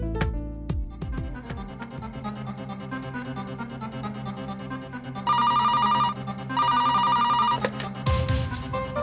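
A telephone rings in two long electronic trills over steady background music, loud and near.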